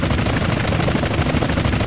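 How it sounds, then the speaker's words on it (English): A helicopter gives chase in GTA San Andreas, its rotor a loud, steady, dense thrum that fills the whole moment without a break. "chopper on our tail"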